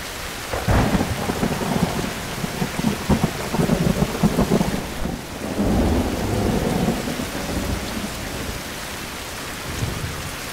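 Thunderstorm with rain in the survival game Survival: Fountain of Youth: steady rain hiss over rolling thunder that rumbles in two long swells, loud and close, with no talk.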